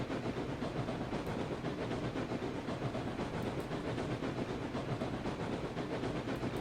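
A steam locomotive runs through a loop in the RailRoads Online video game. A steady loud rumble with continuous rail clatter and hiss goes on throughout, with no talking.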